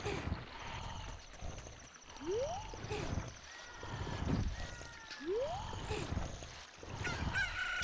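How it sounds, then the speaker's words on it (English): Chicken hatching and crowing in Zelda: Ocarina of Time inside Dodongo's Cavern, repeated rising squawks and honk-like crows recurring in a steady rhythm over game background sound. "Chicken's gonna hatch, like it just did."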